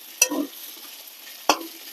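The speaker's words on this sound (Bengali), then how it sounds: "দেখো মশলাটা ভাজা হয়ে গেছে" Spices frying in a pan for a potato and paneer curry, with two separate bursts of stirring, each a sharp scrape that fades into a short sizzle, and quiet between them.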